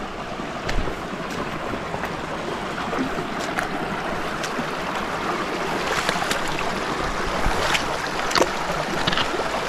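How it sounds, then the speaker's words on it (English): River water rushing steadily at a crossing between two mountains on the Cape Wrath Trail in the Scottish Highlands, a broad, continuous close-up wash with no voices. "River crossing first."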